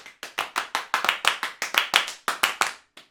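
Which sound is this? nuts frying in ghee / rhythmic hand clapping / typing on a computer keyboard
rhythmic hand clapping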